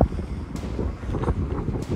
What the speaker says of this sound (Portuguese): Só me perdoa aí o vento, gente, mas não tem como. Aqui venta muito mesmo.